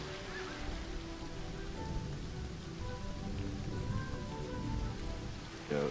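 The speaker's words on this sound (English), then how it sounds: "it's raining lightly" Light rain falls steadily on surfaces in the Cutlass Cove area of LEGO Fortnite Odyssey, a soft, even patter of drops that holds throughout with no talking.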